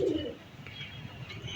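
A breeder pigeon coos softly in a loft, a low faint murmur near the start, with quiet ambient rustle behind it.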